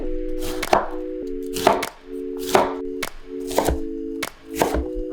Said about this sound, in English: Chop this up.